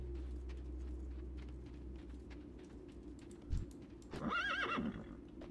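Horse in World of Warcraft, with soft, irregular hoof clops, one heavier thud, then a loud, wavering neigh near the end, heard alone.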